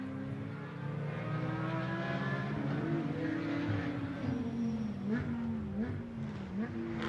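Several GT2 race cars, a Porsche ahead of a Mercedes and a KTM, accelerate uphill over a brow at the Algarve circuit. Loud, continuous engine roar with rising and shifting pitch as the cars climb, with no talk.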